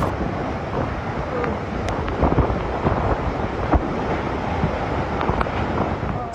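Strong typhoon wind from Typhoon Opong roars steadily near the coast, with gusty buffeting and scattered sharp knocks, loud and continuous with no talk.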